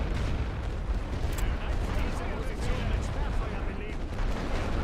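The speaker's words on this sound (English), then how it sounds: "these bombardments seem to be moderately more effective against enemy artillery pieces" Artillery bombardment in The Great War: Western Front, a World War I strategy game: a dense, continuous roar of distant and near shell blasts and rumbling explosions, loud and unbroken throughout.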